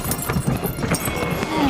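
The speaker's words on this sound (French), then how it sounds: "Allez-y! Tirez avec les chevaux!" Horses straining to pull a cart stuck in mud, with hoof clops and thuds close by, mixed with shouting voices and scuffling throughout.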